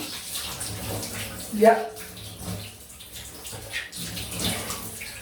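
Cold water runs briefly from a tap for a quick rinse after a double-edge safety razor shave, a soft steady wash with a short louder splash, while a voice speaks over it.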